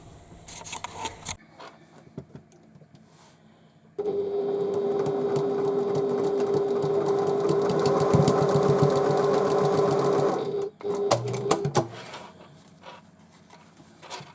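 A sewing machine stitches a Sally Midi tote bag, running a steady whirring, buzzing seam for several seconds after and before scattered handling clicks and taps nearby.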